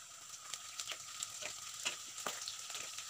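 Sliced onions and slit green chillies frying in oil in a pan, a steady bright sizzle with light crackles and small pops throughout, close and alone.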